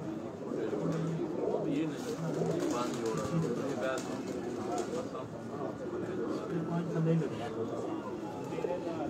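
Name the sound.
pigeons cooing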